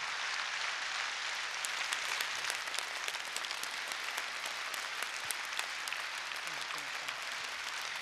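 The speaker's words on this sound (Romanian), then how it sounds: "Aplauze pentru cei mai sinceri, cei mai adevărați artiști" Steady, dense applause from a concert audience for child performers at the Mărțișor Junior show, heard as a continuous wash of many hands clapping at a moderate distance.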